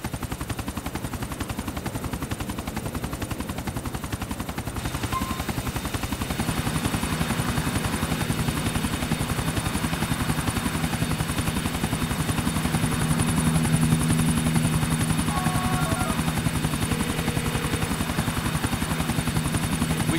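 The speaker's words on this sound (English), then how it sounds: "We shut down that chopper for you." Helicopter flying in the video game Grand Theft Auto IV, a steady, fairly loud rotor drone that runs unbroken from start to finish with no talking over it.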